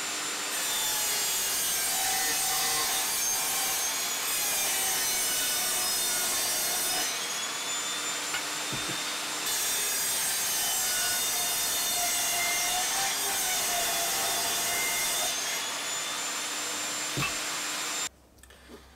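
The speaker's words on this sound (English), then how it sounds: "the first blade, obviously I'm going to be doing the standard multi-blade from Evolution" Evolution Rage 5S saw fitted with its standard multi-blade cuts through plywood, a loud continuous high-pitched whine with load shifts as passes restart, running near and alone for about eighteen seconds before spinning down.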